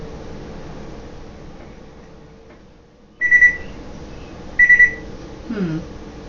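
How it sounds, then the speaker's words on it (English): A kitchen microwave oven being set for quick defrost gives two short, sharp electronic beeps about a second apart over a faint background hum, followed by a softer falling tone. "I'm going to melt the butter in the microwave."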